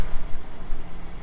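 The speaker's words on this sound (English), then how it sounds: "when I push the M1 setup, you can hear it gives a distinctive exhaust sound" A 2021 BMW M3 Competition in M1 mode gives a low, steady exhaust rumble with slight pulsing, close and fairly loud for just over a second.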